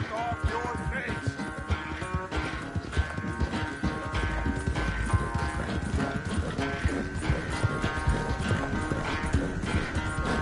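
Horse hooves clip-clop in Red Dead Redemption 2 during free roaming, a steady trotting rhythm under a busy, full game soundtrack with a brief whinny.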